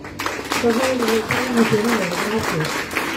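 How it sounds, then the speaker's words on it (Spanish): Audience applause fills the hall at a graduation ceremony for the Instituto Oficial San Buenaventura, a steady wash of clapping with a voice speaking over it. "Aplausos, por favor."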